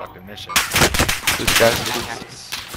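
Rapid gunfire in a multiplayer shooter video game, dense bursts of close automatic and single shots cracking one after another for a couple of seconds, with a voice talking over the shooting.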